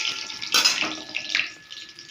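Whole moong dal dropped into hot oil tempered with cumin and spices, a sudden bright sizzle that bursts up loudly, then settles into a softer, crackling hiss that fades.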